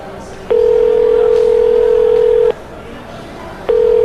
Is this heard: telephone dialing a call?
yes